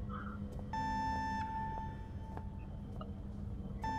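Alarm in the horror video game Penumbra Overture, a sustained electronic tone with stacked harmonics that cuts in and out in long pulses, interrupted by short sharp clicks over a low rumbling background.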